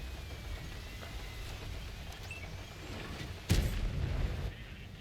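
A tank cannon fires a HEAT shell in World of Tanks, a single sharp boom with a rumbling tail, heard over a low engine and ambient hum.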